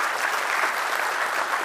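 A church congregation claps steadily and loudly, a dense wash of many hands applauding together throughout, with no voices rising above it.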